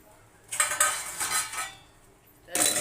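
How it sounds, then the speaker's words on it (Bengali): Metal clanks and scrapes of a lid being set onto a cooking pot of chicken biryani, two short bursts of rattling contact with a pause between, close and moderately loud. "ঢেকে দিলাম"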